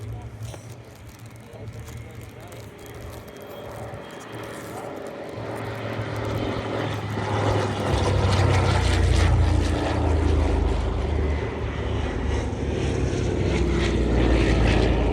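A C-47 propeller aircraft passes by at the EAA AirVenture Oshkosh airshow, its steady engine drone building from moderate to loud and close, with the low rumble swelling midway.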